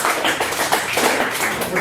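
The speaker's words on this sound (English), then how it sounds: "Clap for that too" A comedy club audience at The Rose and Thistle in Brantford claps steadily in a dense, even patter for about two seconds, with no talk over it.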